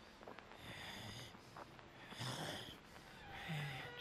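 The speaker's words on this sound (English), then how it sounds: "Someone's breathing loudly like a motherfucker here." Heavy, snorting breaths from a lurking enemy in the horror game Outlast 2, close and rasping, rising and falling in slow uneven bursts with faint ambient noise between.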